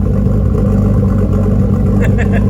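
A Nissan R34 Skyline fitted with a turbo conversion and running on E85 idles steadily and loudly up close, a constant low rumble with people talking over it.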